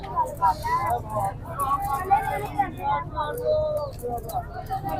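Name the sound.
pigeons cooing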